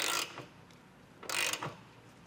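Ratchet turning a bolt to tap threads in the frame of a 2020 Ford Transit, two short bursts of close, rapid mechanical clicking separated by a pause.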